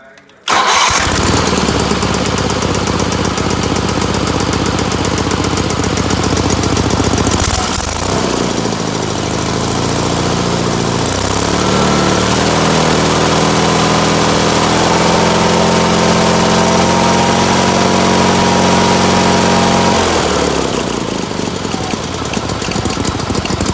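A small engine on a machine fitted with a new voltage regulator and stator cranks and fires, then settles into a loud, steady idle with a brief dip midway, running continuously close by.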